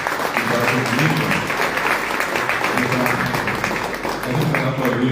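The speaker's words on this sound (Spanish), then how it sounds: "Por eso también este aplauso muy fuerte para él y para su equipo." An audience at an Ateneo tribute ceremony applauds loudly and continuously for about five seconds, a sustained wash of clapping with a murmur of voices underneath.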